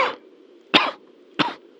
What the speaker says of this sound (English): Subject suffers a coughing fit